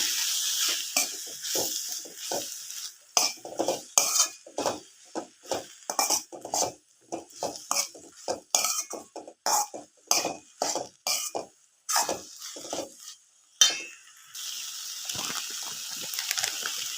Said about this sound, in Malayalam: മഞ്ഞൾപ്പൊടി ചേർത്ത് നല്ലതുപോലെ ഒന്ന് മിക്സാക്കി കൊടുക്കാം